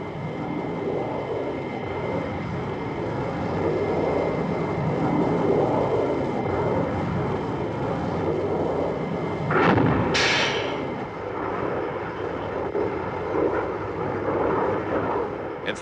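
Aircraft from the Thunderbirds series flying, a continuous rumbling engine drone throughout with a couple of sharp bursts partway through.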